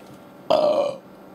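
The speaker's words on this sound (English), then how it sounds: "I thought I'd burp away from the camera so it wasn't as loud" A single loud burp of about half a second, deep and throaty with a bright rasp on top, rising abruptly from a quiet room and then cutting off.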